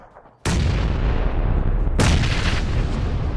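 Two grenades explode in PUBG, the first bursting in suddenly after a quiet moment and the second following about a second and a half later, both loud, close broadband booms with sustained rumbling decay and no talking.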